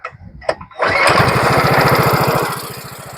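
A small engine on a restored mini Harley-Davidson motorcycle sputters, catches and settles into a loud, fast, buzzing idle close by, then eases slightly near the end.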